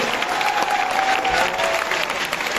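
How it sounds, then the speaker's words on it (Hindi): Sustained applause from an audience in Thyagaraj Stadium, New Delhi, a steady dense wash of clapping holding for the whole stretch with a faint tonal hum beneath. "तो मैं खास तौर पर इन लोगों के लिए ताली बजाना चाहता हूं जो आगे बैठे हैं"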